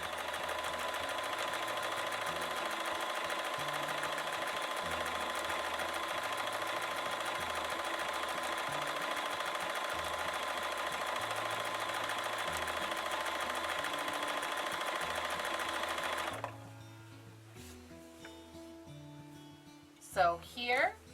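A Bernina sewing machine runs steadily and close for about sixteen seconds, stitching a hand-look quilting stitch in straight lines, then stops and gives way to quiet handling noises and a brief voice.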